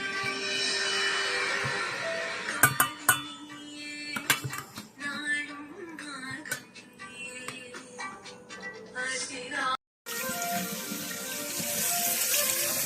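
Water running from a kitchen tap while hands are washed, a steady splashing stream with clinks of dishes and utensils, faint voices in the background and a brief break before the flow resumes.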